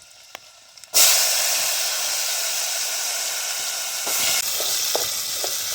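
Potatoes with garlic hitting hot oil, a quiet start then a sudden loud burst of sizzling that settles into a steady close frying hiss, with a few clanks of a utensil later on.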